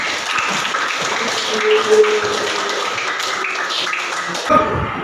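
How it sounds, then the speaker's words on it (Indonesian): Students in a classroom clap together at the close of a lesson, a close, steady patter of hand claps with a few louder thuds, running throughout without speech. "Beri tepuk tangan untuk kita semua."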